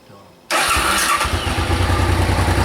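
A Suzuki VX 800 motorcycle engine cranks and catches after a short quiet lead-in, then settles into a loud, steady, close idle with a throbbing low rumble.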